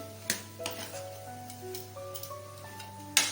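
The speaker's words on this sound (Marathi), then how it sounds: "आता मी परतून घेते व्यवस्थित" A spoon stirs pea samosa filling in a pan, with light scraping clinks and a soft sizzle under faint background tones, close and quiet.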